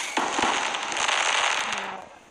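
Crackling fire sound effect played from a Merge Cube augmented-reality app, a steady close hiss with scattered sharp pops running for about two seconds before tapering off slightly.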